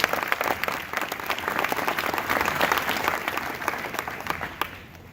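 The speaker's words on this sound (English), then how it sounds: "Please clap." Conference audience applauding together, a dense sustained wash of many hands clapping close and loud, holding steady before thinning out at the end, with no voices over it.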